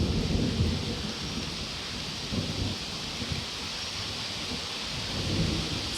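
Heavy rain pours steadily outside during a storm, with low rolling thunder rumbling underneath in a few swells, no voices present.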